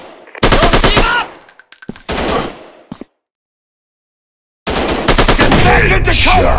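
Gunfire in the Sniper 3D shooting video game: loud, rapid automatic bursts in three volleys, separated by a short gap and a longer stretch of total silence, with crackling game effects in the final burst.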